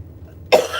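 A woman gives a single sharp cough, close and loud, after a moment of near silence.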